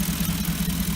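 A 2008 Ford Expedition V8 with upgraded intake and exhaust idles low and smooth, a steady deep rumble with gentle pulsing, heard close and alone.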